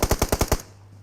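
A rapid burst of six loud, evenly spaced gunshots in the video game PUBG Mobile, close and punchy, then abrupt quiet with a low hum.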